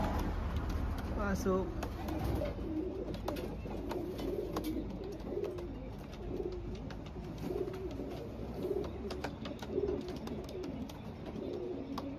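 Racing pigeons coo in a loft during handling, with a soft steady rumble of cooing and wing movement close by while people talk over it in Filipino.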